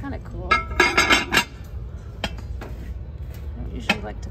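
Glass roaster handled at a thrift store, giving a cluster of close clinks and knocks of glass and dishware early on, then a few quieter taps against faint store background.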